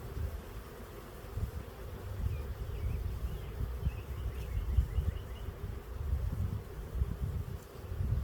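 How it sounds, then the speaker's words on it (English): A low, dense hum of many bees buzzing around a hive frame, steady and continuous with slight swells in loudness, no talking. "It's a good frame of bees."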